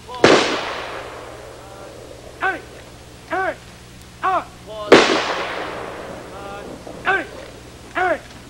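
Two ceremonial rifle volleys ring out from a Marine cemetery firing party, each a sharp loud crack with a long echoing decay, separated by a few seconds, while a bugle or horn sounds short rising phrases between them.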